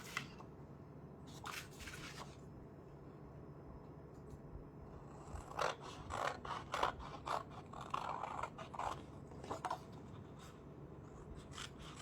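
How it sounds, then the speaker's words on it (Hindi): Scissors snipping craft material for a resin art envelope, with scattered close snips early on and then a quicker run of cuts and scraping, quiet and without talk. "आपको इस तरह से इसकी कटिंग करनी है."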